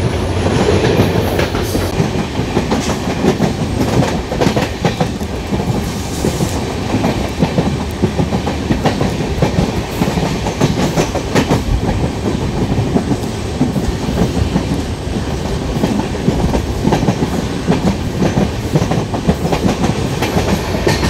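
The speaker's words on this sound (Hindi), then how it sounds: "ट्रेन बहुत ज़्यादा शेक कर रही है" A passenger train on the Madurai to Bodi line via Theni rolls at a steady speed of around 60 km/h, shaking heavily. Dense, loud rumbling and rattling continue throughout, with rhythmic clacking of the wheels and no talk.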